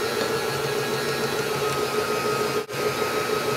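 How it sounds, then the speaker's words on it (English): An electric stand mixer runs steadily at close range while kneading bread dough, a continuous motor whine and hum that carries on unbroken, with one very brief dip near the end. "turn my mixer back on, and just"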